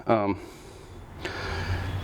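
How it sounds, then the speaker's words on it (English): A sharp, voiced gasp of breath up close, followed by a lull and then a long, steady rush of heavy breathing, at a Porsche track day at Sebring. "Sorry for the heavy breathing."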